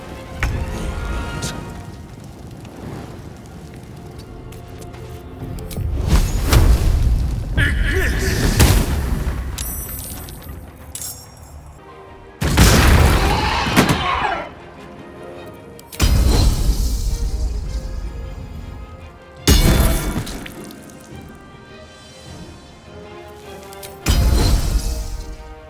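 Fire spell explosions in the Baldur's Gate role-playing game, several loud separate booming blasts with crackling, roaring tails, spaced seconds apart over a low rumbling backdrop.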